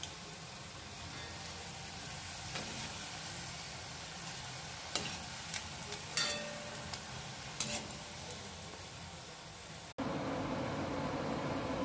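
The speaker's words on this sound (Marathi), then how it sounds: "आता मी यात कांद्याची भजी सोडलेली आहे तळायला." Onion bhajis frying in well-heated oil, a steady close sizzle with a few louder crackles and pops, then a sudden jump to a brighter, denser hiss near the end.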